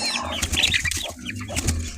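A broody hen with her chicks clucks nearby in a village yard, giving short soft clucks and a few higher peeps in an uneven rhythm, quiet and close, with no talking.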